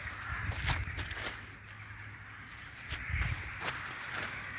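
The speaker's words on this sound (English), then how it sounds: "The crows have joined in." Crows caw in short bursts outdoors, a few calls at moderate distance over a steady low hum and light background rustle.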